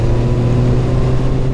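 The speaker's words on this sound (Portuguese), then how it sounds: "É uma moto gostosa de acelerar essa daí" A Kawasaki Vulcan 650 motorcycle engine drones loudly and close by with a deep, even hum, holding a steady pitch throughout.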